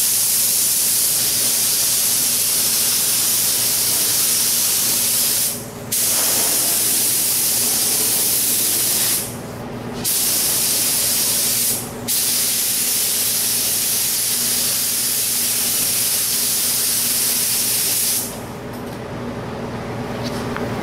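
A spray gun lays down primer in a steady, loud hiss that cuts off briefly several times between passes and then fades at the end.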